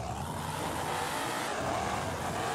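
Tractor engine driving in the Spintires video game, a steady, loud motor drone with a slight rising rev, continuous throughout and heard alone.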